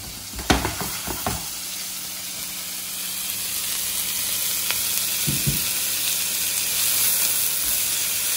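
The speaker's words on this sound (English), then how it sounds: "Saute our vegetables" Vegetables sautéing in a hot pan for a vegan Chinese dish, a steady broadband sizzle throughout with a few sharp clatters of utensil against pan near the start and again midway.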